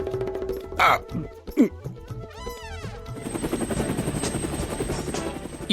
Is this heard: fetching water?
no